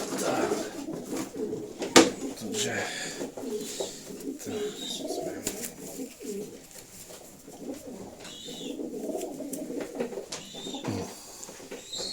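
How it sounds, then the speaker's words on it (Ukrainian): A sport pigeon, a young hen bred in Ukraine in 2019, coos softly and repeatedly at close range in a loft, with faint rustling and a sharp knock partway through. "От така голубка."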